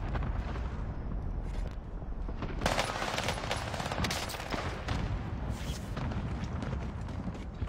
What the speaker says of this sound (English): Is there any way that you can turn down the sound of them airstrikes and like 500 miles away?